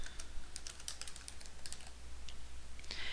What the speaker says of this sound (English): And I'm going to start here by typing my main idea.